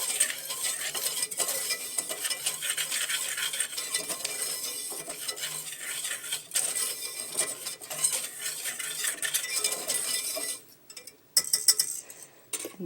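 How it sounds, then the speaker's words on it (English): A whisk scrapes and clinks steadily against a bowl, mixing sugar, salt and cornstarch. The stirring is close and continuous, then breaks off into a few sharp taps near the end. "I'm going to just whisk those ingredients together just to combine them"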